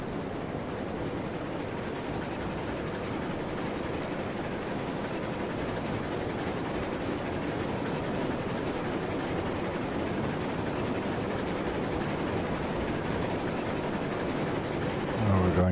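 A train rolls along in the railroad sim game Railroads Online, a steady continuous rumble with faint rhythmic rail clatter throughout, ending with a slight rise in engine noise.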